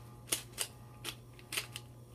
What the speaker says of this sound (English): what you're hearing is the Feng Shui block.